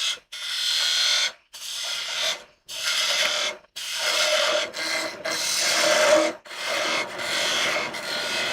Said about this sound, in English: So you just need to sand this.